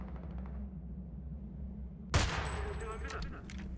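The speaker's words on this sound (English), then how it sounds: "Me shooting a window." A single sharp gunshot fired at a window in the shooter game Homefront cracks out loud after a quiet stretch, followed by a brief ringing tail.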